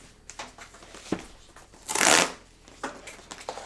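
Cardboard and plastic packaging of a Robosen Transformers Bumblebee G1 performance robot toy being torn open: scattered crinkles and taps, then one loud, close ripping burst lasting about half a second, followed by lighter rustling.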